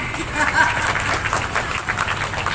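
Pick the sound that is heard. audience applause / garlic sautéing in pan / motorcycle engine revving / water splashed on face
audience applause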